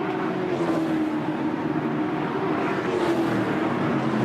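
V8 Ute race cars at the Clipsal 500 in 2012, their engines holding a steady, loud droning roar throughout, with no talking.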